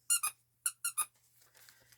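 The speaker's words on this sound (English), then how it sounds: "A squeaky broccoli." Squeaky broccoli-shaped dog toy squeezed five times in quick bursts, each squeak bright and near, followed by softer rustling handling noise.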